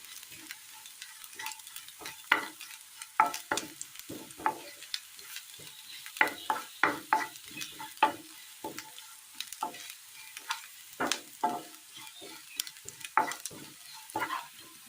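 Mustard seeds and onions frying in ghee for a traditional Kerala curry tempering, with sharp scattered crackles and pops of bursting seeds over a soft sizzle, close and irregular, without talk.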